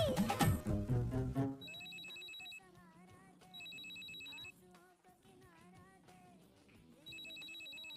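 An old-style telephone bell rings in repeated bursts, its trilling rings spaced a few seconds apart, after a brief loud musical burst at the start.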